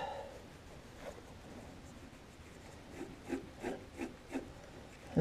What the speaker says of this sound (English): That's the belt rubbing, if you're wondering.